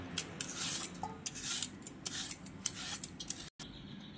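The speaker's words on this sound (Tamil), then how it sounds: "இது மாதிரி 2 பக்கமும் கட் பண்ணிவிட்டு தோலை சீவியங்க." A peeler shaving the skin off a raw banana in quick repeated scraping strokes, close and crisp, with brief pauses between passes and no talking.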